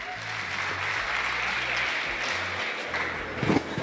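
Audience at a comedy show claps in a steady round of applause that holds for a few seconds, with a brief louder burst near the end.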